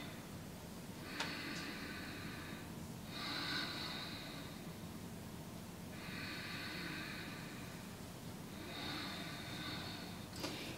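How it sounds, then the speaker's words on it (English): Deep yoga breaths repeat in slow, even cycles, each long airy inhale and exhale close and soft, with quiet pauses between and a couple of small ticks. "Nice deep inhalations, soft and complete exhalations"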